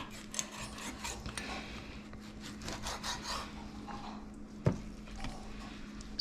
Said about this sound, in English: So I'm just trimming the sizes down a little to make them more edible, biteable.